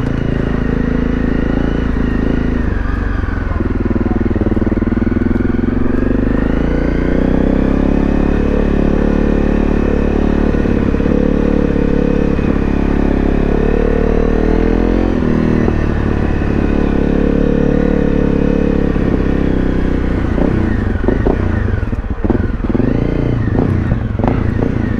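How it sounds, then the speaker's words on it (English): A small 250cc motorcycle, probably a CRF rally bike, rides through flooded roads, its engine droning steadily and loud throughout with shifting revs and some clatter. "There's always a way on a motorcycle."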